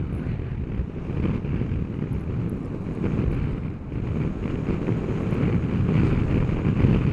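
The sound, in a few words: headwind blowing on microphone while riding electric scooter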